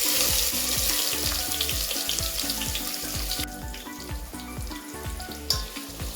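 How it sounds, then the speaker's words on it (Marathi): Chopped onion with bay leaf and whole spices fries in hot oil for chicken curry, giving a steady close sizzle broken by the scrape and clatter of a spoon stirring the pan. "कांदा छान असा आपण परतून घ्यायचा।"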